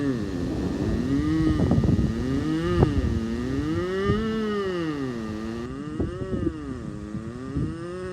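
A singing voice imitates a car revving up with continuous, close humming whose pitch swoops up and down in repeated wavy sweeps, like an engine rising and falling.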